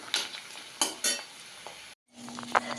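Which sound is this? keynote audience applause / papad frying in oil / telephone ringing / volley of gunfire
papad frying in oil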